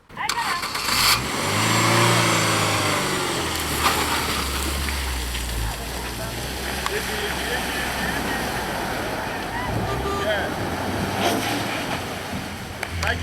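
A car drives through deep mud at a riverbank to board a river ferry in Mali, its engine revving and churning loudly under occasional talk and ambient outdoor noise.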